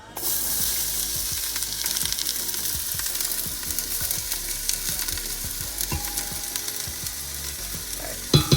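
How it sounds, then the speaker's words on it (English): Onions, garlic and ginger sauté in a hot pan, giving a loud, continuous close sizzle with repeated stirring scrapes and a clatter at the end. "So we're gonna get started with the onions and garlic and some ginger in there as well. And we're just gonna saute that."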